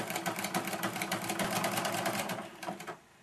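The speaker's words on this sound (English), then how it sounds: "But just start sewing, keeping a 1/4 inch edge" Sewing machine stitching a quarter-inch seam along the edge of a fabric placemat, a steady rapid mechanical whir with fine rhythmic needle clatter running continuously and close, then slowing and stopping near the end.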